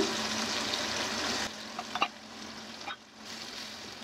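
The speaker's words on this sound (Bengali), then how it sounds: "প্রথমে পেঁয়াজ দিয়ে দিচ্ছি, তারপরে কুচি করা যে ক্যাপসিকামগুলি দিয়ে দিচ্ছি।" Onions and chopped capsicum hit a hot pan with a broad sizzle that fades after a moment, followed by a few soft clicks and scrapes and then a quieter, renewed frying hiss.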